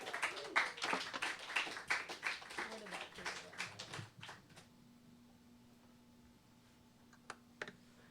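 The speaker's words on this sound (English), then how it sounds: "Give yourselves a round of applause." Brief scattered clapping from a small open-mic audience for about four seconds, then it fades to quiet room tone with a steady hum and a couple of faint clicks.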